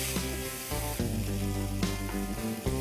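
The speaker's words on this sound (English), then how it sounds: "Stir everything together." Paneer filling with red chili flakes, chili sauce and dried mixed herbs sizzles and fries in a pan over a flame while being stirred, a steady close hiss with a few scraping bumps.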